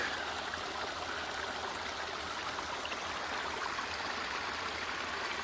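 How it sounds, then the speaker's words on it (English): A steady rush of flowing creek water, broadband and continuous throughout, with no voices. "What a beautiful creek."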